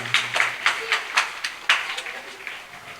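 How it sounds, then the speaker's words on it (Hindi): Children clapping at an Independence Day school celebration, a run of about eight or nine separate, fairly sharp claps or clap bursts in uneven rhythm, moderately loud and close, with a faint low hum underneath. "क्लैपिंग जोरदार जोश के साथ, ताले में जोश नहीं है बेटा।"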